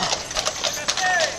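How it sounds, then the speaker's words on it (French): Big draft horses pulling a hitch in a Saint-Jean-Baptiste parade in Embrun clip-clop on pavement with a quick, uneven rhythm of hoof strikes. People chat over the sound. "C'est des beaux gros chevaux, ça aussi."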